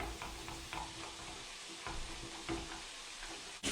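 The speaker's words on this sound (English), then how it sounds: "let's mix the sauce" Sauce with sriracha stirred in a pan while noodles cook, giving a soft continuous scraping and light sizzle, close and quiet, with no voices.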